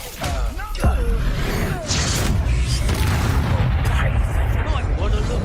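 A loud booming blast from the Expulso explosion spell in the Hogwarts Legacy video game rings out amid a spell-casting duel, with crashing impacts and rumbling debris under a voice talking through the fight.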